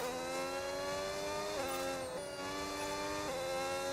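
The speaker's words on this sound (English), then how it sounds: "The Red Bull engine does sound good." A Red Bull Formula 1 car engine during Monaco qualifying, heard faint and distant, holds a steady high-pitched whine broken by several quick gear-shift dips and recoveries, with no voices over it.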